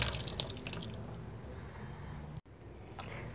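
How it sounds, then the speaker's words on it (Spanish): Strawberries are rinsed under a running kitchen tap, giving a soft continuous wash of water with a couple of small splashes near the start and a brief break before the flow resumes. "Hay que lavar las fresas bien lavaditas para que puedan estar súper súper limpias"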